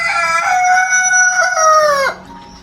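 A farm chicken crowing up close, one loud drawn-out call that holds for about two seconds and then drops off into quiet.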